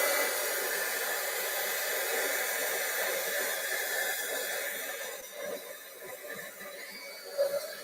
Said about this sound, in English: I'm going to use my heat gun from a distance just to dry that glue a little bit faster